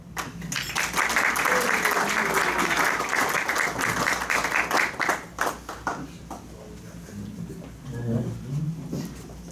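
A Rotary Club meeting audience applauds with dense, steady clapping that gradually thins into scattered claps, with a voice speaking as it fades.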